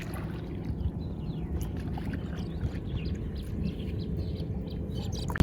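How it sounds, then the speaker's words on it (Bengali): A rowboat is paddled toward the shore, with a steady wash of water sloshing against the hull, close and continuous, and faint bird chirps in the background. "বান্ধবী নৌকা কিনারে নিয়ে যাচ্ছে"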